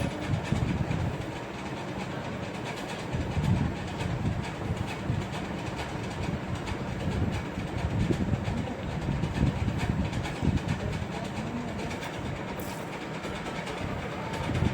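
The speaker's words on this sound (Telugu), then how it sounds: "ఈ విధంగా కుట్టుకోవాలి. రఫ్ కుట్టు వేసుకోవాలి అక్కడ మనం జాయింట్ అయిపోయినాక." A sewing machine runs continuously, sewing rough stitches on dress fabric with a dense, rattling mechanical chatter that stays loud and close throughout.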